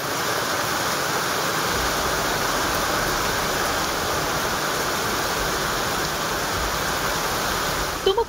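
Swollen rivers in flood after heavy overnight monsoon rain in Tumkur, Karnataka, roaring as a dense, continuous wash of rushing water, loud and unbroken throughout, with a brief disturbance at the very end.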